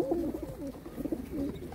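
Pigeons coo softly in a few repeated low warbling phrases, close by, at a pigeon sale.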